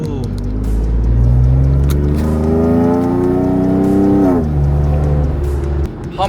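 A modified car accelerates hard through the desert, its engine roaring loud and close, rising steadily in pitch for several seconds, then dropping back to a heavy idle-like rumble before building again.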